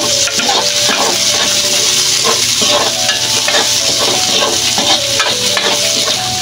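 Garlic and white onion sauté in a pan, sizzling steadily while a utensil stirs and scrapes in rhythmic strokes, close and loud with no talking.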